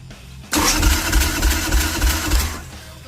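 A hot-wired motorcycle engine cranking over on the starter during a compression check, a loud, close, rhythmic churning of about five pulses that stops after a few seconds.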